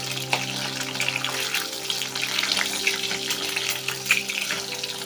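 An egg and paneer mixture frying in a pan while being slowly stirred, a continuous close hiss and bubbling sizzle with a low steady hum underneath.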